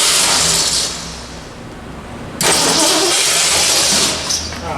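Hot rod car engine cranking and then catching with a sudden roar, settling into a loud steady idle with a brief rev near the end.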